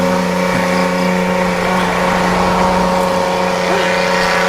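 A motorcycle engine runs steadily and loudly close by, a continuous humming drone with a constant pitch and no clear revving, heard outdoors during a timberland ride.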